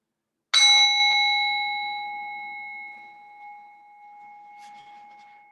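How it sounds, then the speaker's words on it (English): A single bell is struck once during a quiet yoga relaxation, ringing out clearly and then decaying slowly in a long, pure sustained tone, with a faint soft knock near the end. "In a moment, you'll hear the sound of the bell."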